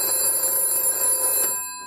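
An extension telephone bell is rung by hand from a GPO N1070 PMBX switchboard. It gives a loud, close, continuous ring for about a second and a half and then stops abruptly, with no talking.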